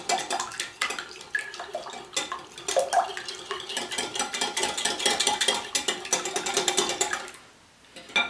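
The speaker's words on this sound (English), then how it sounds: "And then we can stir this all together." Corn dog batter with salt and cracked black pepper is stirred in a bowl, giving a steady, close run of rapid clinking and scraping strokes that stops abruptly near the end, with no talking.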